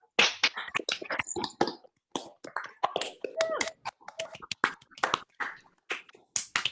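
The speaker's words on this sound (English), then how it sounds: "I'm going to ask you to unmute yourselves and clap," Scattered claps and snaps from an online audience unmuted at a virtual literary event, uneven bursts coming in and out from different microphones with a few small voice sounds mixed in.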